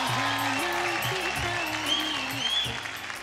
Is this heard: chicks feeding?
no